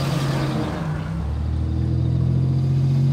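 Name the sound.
Toyota Avalon car doing a burnout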